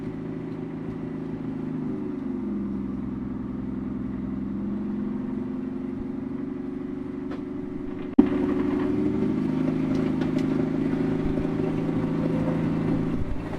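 A 1949 Studebaker car's engine hums steadily, its pitch shifting as it pulls away in first gear, with a sharp clunk around eight seconds followed by a slightly louder, rougher drone; no talking.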